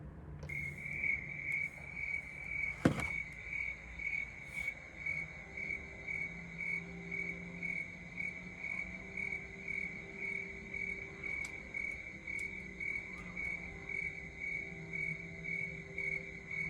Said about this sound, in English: This is a cricket. It is a male cricket, and this cricket lives in Arizona.